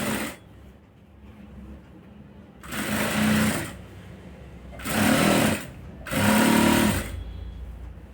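A sewing machine stitches around the neckline of a coat collar with a half-inch seam allowance, running in three loud bursts of about a second each, separated by quieter pauses.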